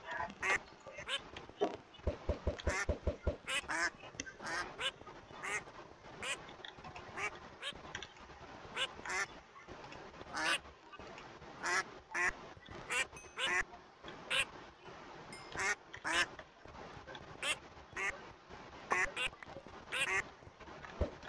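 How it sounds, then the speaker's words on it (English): Ducks quack repeatedly in the Minecraft video game, a busy stream of short, sharp calls with overlapping bursts and a quick run of rapid quacks early on, fairly close. "Once I get these ducks in here, it's gonna be a blast."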